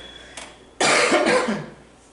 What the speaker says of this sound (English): I still have this annoying cough